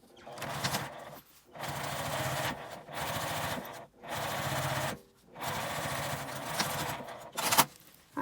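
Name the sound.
sewing machine topstitching a key case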